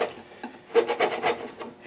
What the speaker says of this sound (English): I've been filing these sharp fret ends for the last 30 years with this file.